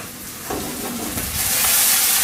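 Chopped onions for a chicken curry sweat and fry in a pan, giving a steady hissing sizzle that swells louder toward the end, with no one talking.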